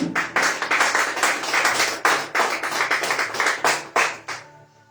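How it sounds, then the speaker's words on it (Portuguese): A church congregation claps together at an evening worship service, a dense rhythmic burst of hand claps with regular pulses that holds steady for several seconds, then tapers off sharply at the end. "Pode aplaudir a Jesus esta noite,"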